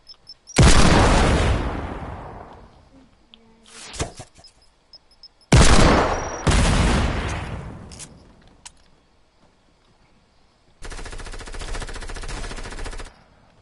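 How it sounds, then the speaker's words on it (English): Loud bursts of automatic gunfire in a video game, several separate volleys with gaps between them, the last a steady rapid stream, with no talking over it. "Who's shooting this?"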